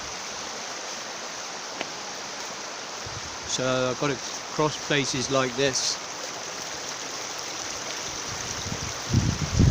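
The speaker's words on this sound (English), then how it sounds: "The waterfalls are over there." Steady broadband rush of a stream and waterfalls at Lake Vyrnwy, Wales, filling the whole clip as a constant nearby wash of water, with someone briefly speaking over it midway.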